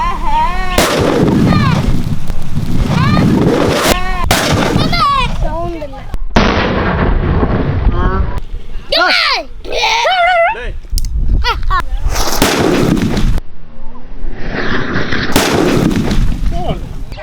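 Nattu vedi country firecrackers of the gold ulakka type go off in a rapid string of loud, sharp blasts close by. The bangs come in dense bursts with brief gaps, and a whistling crackle runs between them.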